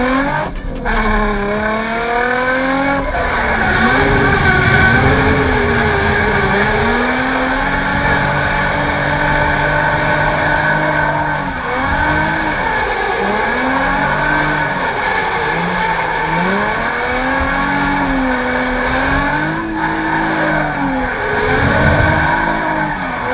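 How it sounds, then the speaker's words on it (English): A drift car drives hard on its tires, its engine revving loud and close with repeated rises and falls in pitch while the tires skid and squeal through the corners, almost without pause. "let's get speed, and more speed"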